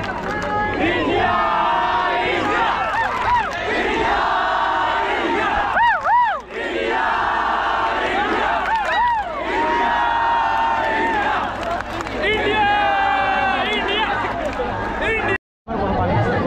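Huge crowd cheering and shouting at the 2024 India T20 World Cup victory parade on Mumbai's Marine Drive, a dense roar of many voices with rising whoops, sustained and loud throughout.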